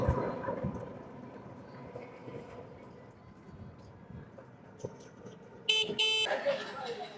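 Street traffic heard from inside a moving auto-rickshaw near Chauhali, Sirajganj, on the way to a river ghat: a steady engine and road rumble, a dog barking and a burst of horn honking near the end.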